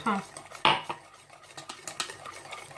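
Date cake batter is mixed with a hand whisk in a bowl, producing quick metallic clinks and scraping taps against the bowl, close and fairly quiet, with irregular strokes and no talk.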